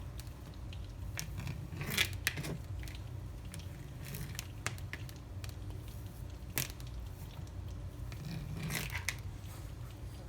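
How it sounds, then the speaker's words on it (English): Knife slicing canned biscuit dough into quarters on a board, giving soft repeated cuts and squishy presses at an irregular pace, close and fairly quiet with no talk. "I'm going to take my knife and I'm just going to cut each biscuit into quarters."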